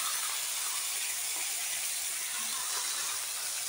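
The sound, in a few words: cooked vegetables poured into the pan, sizzling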